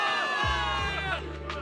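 A crowd of soldiers in the video game Zenless Zone Zero cheers and whoops together for victory, loud and close, a sustained rowdy roar of celebration.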